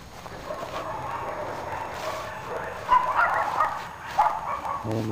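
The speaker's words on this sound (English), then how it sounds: "And the dogs go crazy." Dogs barking and yipping excitedly near a garden, a run of short sharp barks that bunch together in the second half.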